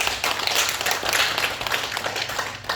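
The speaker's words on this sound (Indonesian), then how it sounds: "beri tepuk tangan buat mapping syariah" Audience at an Indonesian organisational inauguration ceremony clapping steadily throughout, dense and fairly loud applause with no talk.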